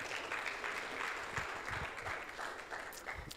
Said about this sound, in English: Can we clap for Shina?